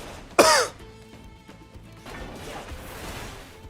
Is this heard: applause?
no